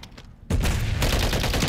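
Dense, loud barrage of explosive gunfire from the JAK Thumper weapon in Call of Duty, starting abruptly after a quieter moment and continuing as a continuous roaring fusillade.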